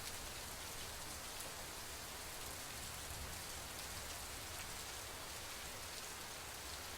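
Heavy rain falling in Hassan district, a faint, even hiss of dense rainfall on surfaces continuing throughout with no voices.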